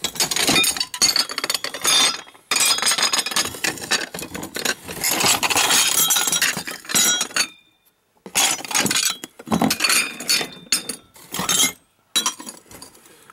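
Broken ceramic tableware scraps clink and clatter in bursts as they are loaded for scrap disposal, bright chinking and rattling of pottery shards with brief pauses between handfuls, close and loud, no talk.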